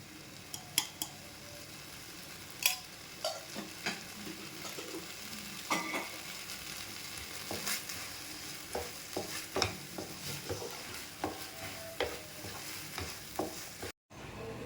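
Gentle sizzling and bubbling of bottle gourd and pea gravy with turmeric simmering in a pan, with occasional stirring clinks and scrapes against the metal, no voices.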